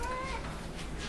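A pet cat meows a few times close by while being let outdoors at a home with a garden, the high, wavering cry fading out early over steady background noise.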